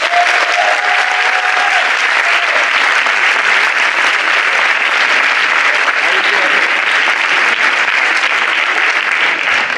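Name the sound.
audience applause for a speaker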